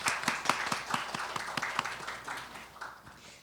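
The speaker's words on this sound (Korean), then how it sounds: "뜨거운 박수로 맞이해 주시기 바랍니다." Applause from an audience welcoming a student presenter at a university program showcase, a fairly faint patter of scattered hand claps fading over a few seconds.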